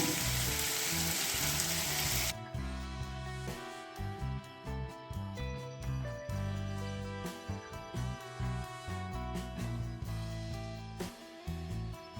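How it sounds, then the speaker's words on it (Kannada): Onion, garlic, ginger and curry leaves fry in a pan for onion chutney: a dense hiss for the first couple of seconds, after which background music takes over and the frying fades beneath it. "ಇದನ್ನು ಚೆನ್ನಾಗಿ ಫ್ರೈ ಮಾಡೋಣ"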